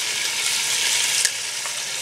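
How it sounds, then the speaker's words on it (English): Potatoes sizzling as they fry in oil in the base of a camp oven, a steady close crackling hiss with one brief click. "On the base, frying in the oil, as you do with most roast veggies, it's the only way to have them really."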